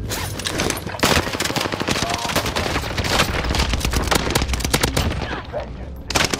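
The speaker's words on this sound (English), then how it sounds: "I'm under fire." Dense video-game gunfire rattles almost without pause, with bursts of automatic fire and single shots layered over distant booms, loud and continuous throughout.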